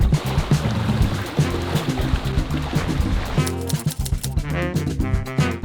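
Steady wind rushing over open ground with soft waves washing in, a constant broadband wash with small surges and no voices.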